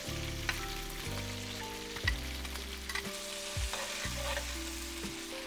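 Beef and doubanjiang frying in a wok give a loud crackling sizzle, with a faint tonal hum running underneath and occasional clatters of stirring.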